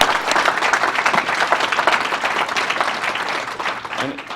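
A crowd at a graduation ceremony for a prisoner re-entry program applauds the organizing team. Loud, sustained, dense clapping fills the hall, with a few voices mixed in beneath it.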